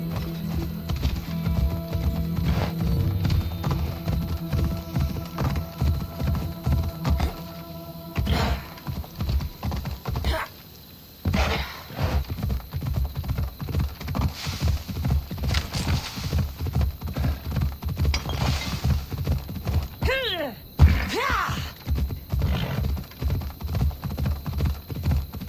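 In Assassin's Creed Odyssey, a horse gallops with steady rhythmic hoofbeats that continue for a long stretch, with brief pauses, a whinny near the end, and faint keyboard clicks.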